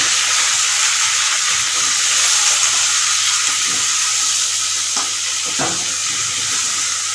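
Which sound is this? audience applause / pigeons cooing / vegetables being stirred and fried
vegetables being stirred and fried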